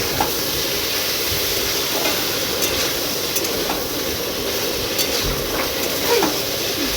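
Stir-fried soybean chunks in a hot pan, a dense, loud, continuous sizzle and bubbling roar with occasional faint clinks of a utensil, close up and without speech.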